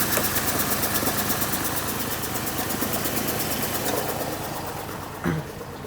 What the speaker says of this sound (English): it's doing that little popping noise very consistently